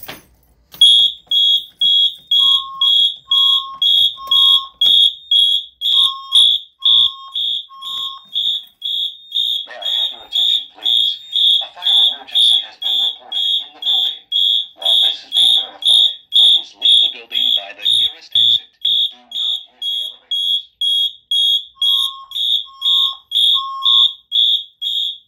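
A Wheelock fire alarm system sounds in march-time coding, loud rapid evenly pulsed tones repeating steadily throughout, with a softer secondary beep pattern appearing at intervals and brief faint voice in the middle.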